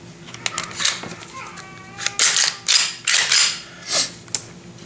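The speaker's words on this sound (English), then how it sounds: "we can finish reassembling the gun. And for that, we just basically slide it together." Glock pistol slide being slid back onto its frame during reassembly after a SIDERLOCK safety install, giving a run of close, sharp metallic clicks and scrapes with a brief ratcheting rattle, and a voice speaking quietly underneath.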